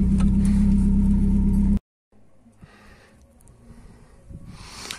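Loud, steady engine drone from an IZh 2717 Russian car as it pulls in, cutting off sharply, followed by quieter handling noises and faint movement.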